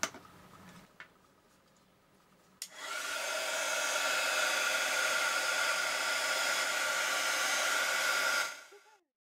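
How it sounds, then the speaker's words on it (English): A craft heat tool blows steadily to melt embossing powder, a loud even hissing whoosh that starts after a few soft clicks and runs for several seconds before cutting off. "So now let's heat that up with the heat tool."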